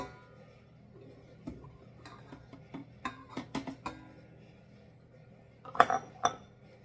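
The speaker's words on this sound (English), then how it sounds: "I'm going to go ahead and beat them eggs around just a little bit" Eggs beaten in a bowl for pumpkin bread, a quiet run of light clinks and taps from a utensil against the bowl, with a louder burst of clatter near the end.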